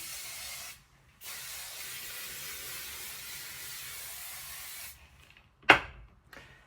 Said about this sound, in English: spraying with the hairspray.